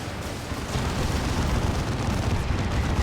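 A large explosion in Dawn of War 2 kills a Techmarine during a 3v3 match, a sustained roaring, rumbling blast that swells after a quieter start and stays loud and dense to the end, with no talk.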